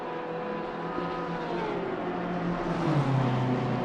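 Race cars lap Watkins Glen in Assetto Corsa Competizione, several engines droning and rising in pitch as they accelerate close together, swelling louder toward the end without any voices.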